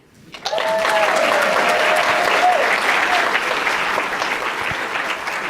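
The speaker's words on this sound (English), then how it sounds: "let's give a round of applause to every person who presented and will present on this stage tonight" An audience bursts into loud sustained applause after student presentations at a university three-minute thesis championship, clapping rising sharply and continuing dense and steady with a few cheers mixed in.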